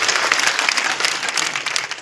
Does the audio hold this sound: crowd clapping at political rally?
yes